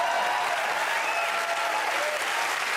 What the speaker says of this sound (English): We got a round of applause for it.